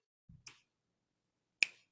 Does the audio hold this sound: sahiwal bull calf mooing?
no